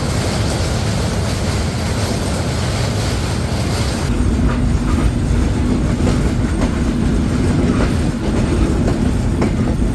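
The Simanta Express train rumbles into a station at night, steadily, with rhythmic clacking of wheels over rail joints, loud and close, a constant heavy roar throughout.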